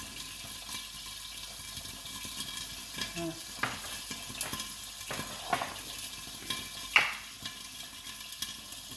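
Chicken croquette mixture is stirred with salt and pepper in a bowl, giving soft, wet squelching and scraping at an irregular pace over a steady background hiss, without speech.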